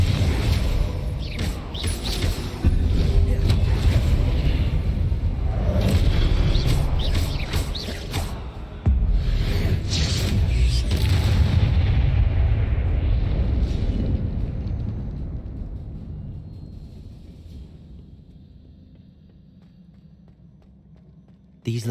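A Confringo spell explosion in Hogwarts Legacy, a loud fiery blast with crackling bursts and rumbling that carries on for many seconds before slowly fading away, heard alone without talk.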